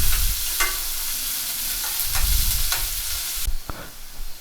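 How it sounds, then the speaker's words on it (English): Chopped onions sizzle steadily in a hot pan, turning golden brown, with several sharp scraping stirs of a spatula cutting through the continuous frying hiss; no voices. "we'll finally mix it. See, the onions are turning golden brown."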